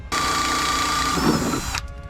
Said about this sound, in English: So I'm gonna drill out the screw in the middle.